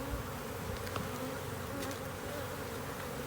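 Dense, steady buzzing of many honeybees inside a hive with the queen, loud and close, a continuous droning hum with no voices.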